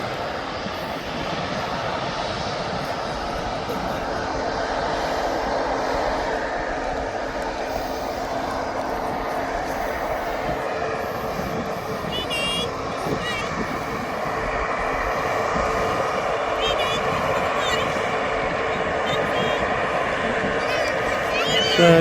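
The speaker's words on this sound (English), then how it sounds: "So there goes the Aer Lingus." An Aer Lingus airliner departs Birmingham Airport, a steady broad jet roar held at a distance for the whole stretch, slowly swelling louder toward the end, with faint talk mixed in.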